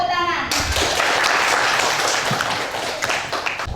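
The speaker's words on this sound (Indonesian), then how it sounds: "Beri tepuk tangan." Loud, dense clapping erupts from students in a classroom right after a brief spoken line, then gradually thins, with children's voices faintly mixed in.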